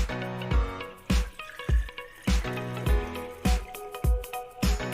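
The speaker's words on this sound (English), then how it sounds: "pour the water into the tank" Water pours into the tank of a budget espresso maker in an uneven sequence of splashy, gurgling surges with rhythmic pulses, heard close and fairly quiet against background music.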